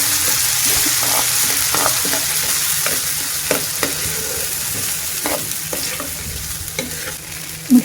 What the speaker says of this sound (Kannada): ಮಿಕ್ಸಿ ಮಾಡ್ಕೊಂಡಿರೋ ಗ್ರೇವಿನ ಹಾಕ್ಕೊಂಡು ಟೊಮ್ಯಾಟೋದು ಒಂದು ಸ್ವಲ್ಪ ಹಸಿ ವಾಸನೆ ಹೋಗೋವರೆಗೂ ಇದನ್ನು ಚೆನ್ನಾಗಿ ಕೈ ಆಡಿಸ್ಕೊಳ್ಳೋಣ